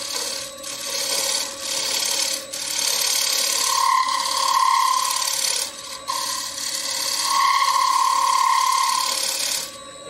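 A tool shear-scrapes the rim of a green wood bowl spinning on a lathe, a steady whirring hum with two longer stretches of bright, ringing scraping, close and without talk.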